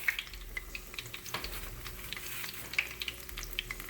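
Conch balls frying gently in grease that is not too hot give a steady soft sizzle with small crackles and pops. A faint tap-water trickle runs underneath, and no one speaks.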